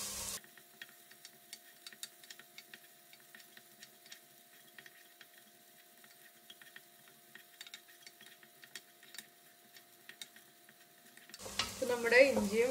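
Onion, garlic and ginger sauté in a pan for a Kerala tomato rasam, a steady soft sizzle with faint stirring clicks throughout, then a brief burst of louder clatter near the end.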